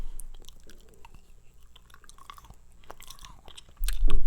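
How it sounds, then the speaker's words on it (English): Gum chewing close to the mouth: soft wet squishes and smacks repeat unevenly, and a louder crinkle or clatter bursts in near the end, with no talking. "I'm going to open a piece of chewing gum and put that in my mouth."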